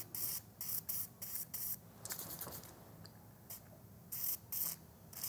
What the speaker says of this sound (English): which once I spray on here, should help this bolt come out when I start trying to move it with the spanner